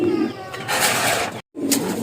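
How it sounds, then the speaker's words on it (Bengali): Domestic pigeons give soft, low, repeated coos close by, with a brief dropout midway before the cooing resumes. "এই জায়গায় একজোড়া গোল্লা কবুতর আছে।"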